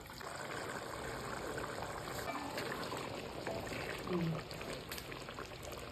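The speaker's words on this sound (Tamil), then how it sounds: "அளவான கல் உப்பு, 2 டம்ளர் தண்ணி ஊற்றி நல்லா கொதிக்க விட்டுக்கலாம்" Water being poured into a pan of egg curry with masala and salt, a steady liquid rush and simmering hiss that runs throughout at moderate level, with a brief splash near the end.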